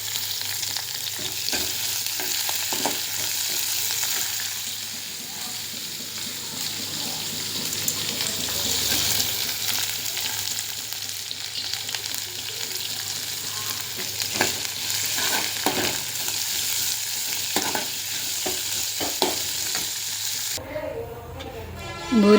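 Potato curry for poori sizzles in a pan while a spoon stirs and scrapes through it, a continuous close frying hiss with scattered clinks and splashy water sounds and an abrupt shift in the final seconds.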